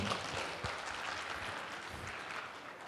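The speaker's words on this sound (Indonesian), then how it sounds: "Kita berikan tepuk tangan untuk Bapak Kemal Effendi Gani." Audience applause at an awards night, a dense, steady patter of many hands clapping in a large hall, fairly faint and continuous.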